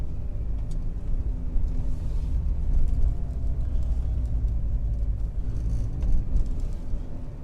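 Car engine while driving on roads with roundabouts and 30 mph limits, a steady low rumble and road drone throughout, loud and continuous with no talking.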